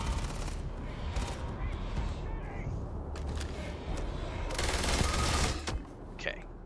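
Gunfire in the space game Starfield, rapid bursts of automatic shots and crackling impacts over several seconds, with a voice talking in between.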